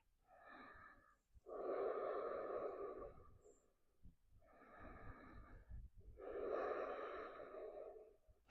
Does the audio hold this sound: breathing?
yes